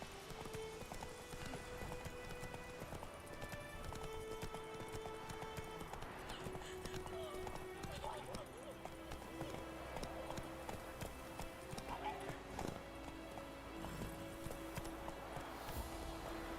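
Hooves clip-clop steadily from the horse Roach trotting in the video game The Witcher 3, an even rhythmic beat kept up throughout under soft game music and ambience.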